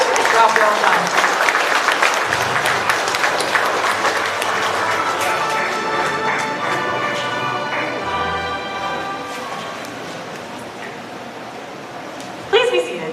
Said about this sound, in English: Let's give a round of applause for these students for their accomplishments.